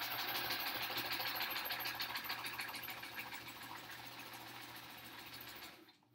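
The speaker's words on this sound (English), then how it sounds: "I'm starting out tonight by sewing all of them together." Close and steady, a sewing machine runs continuously while stitching fabric triangles together for a quilt back, fading slightly before stopping near the end.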